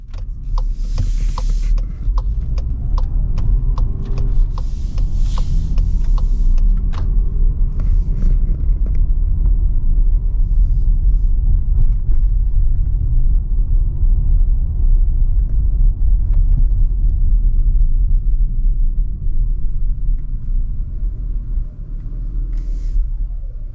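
Volkswagen Atlas Cross Sport SE V6 driving on a road, a steady low engine and road rumble filling the cabin throughout, with a few faint clicks and mechanism sounds early on and no talking.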